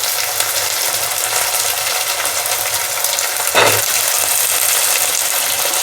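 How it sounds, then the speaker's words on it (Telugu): Potatoes go into a pan of frying garlic and onions, setting off a loud, steady sizzle with a brief surge of crackling as they hit the hot oil, then a continuous frying hiss. "వెల్లుల్లి ఉల్లిపాయలు కొద్దిగా వేగనిద్దాము, పచ్చివాసన పోయే వరకు"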